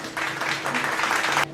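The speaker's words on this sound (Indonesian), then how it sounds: "Tepuk tangan untuk kelompok 1." A class of students claps for a group's presentation in an accounting lesson, a burst of brisk applause that starts quickly, holds steady and then cuts off abruptly.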